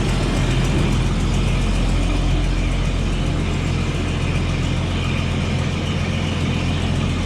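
Car engine idling, a loud, close, steady low rumble that holds an even, unbroken drone throughout, with no revving or pauses.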